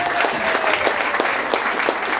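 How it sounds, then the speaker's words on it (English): An audience at a charity night in a bank, with an Elvis tribute act, gives a round of applause: dense, steady clapping close by and fairly loud, with no talk over it. "Give Leah a round of applause."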